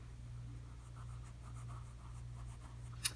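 A fountain pen with an FPR Himalaya flex nib scratches faintly across paper in short strokes, close and quiet, ending in a brief sharp tap.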